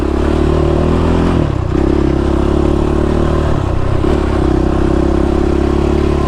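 Motorcycle idling and revving with a dry, noisy chain, a loud steady rumble with clattering mechanical noise and two short dips where the throttle changes, close by with no talking.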